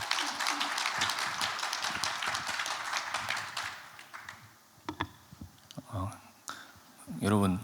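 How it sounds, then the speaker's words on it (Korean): An audience at a panel discussion on North Korean human rights claps to welcome a former North Korean diplomat. Dense applause fills the first few seconds, fades out, and a few soft taps and a voice follow. "큰 박수로 연설 청해 듣겠습니다."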